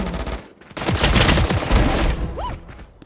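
Loud, close gunfire in a shooter video game, a dense burst of rapid shots lasting around two seconds, then a brief pause and a short trailing sound.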